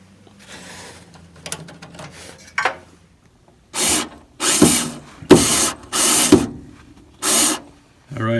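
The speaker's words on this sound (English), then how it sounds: "now that you unscrewed the one screw there" A screw is turned out of a pellet stove with a series of about six short, close, scraping ratchet-like bursts, coming after a quieter stretch of fumbling and rubbing.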